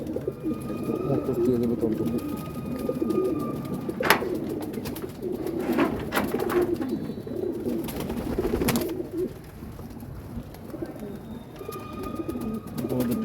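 Soft pigeon cooing murmurs steadily in the background, with occasional sharp clicks and rustles and a voice talking faintly nearby.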